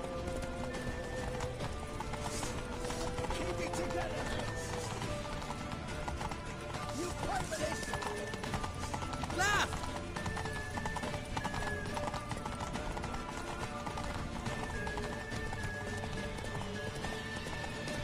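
A horse gallops with rapid, continuous hoofbeats, joined by an occasional whinny, over a busy background of music and effects in The Witcher 3.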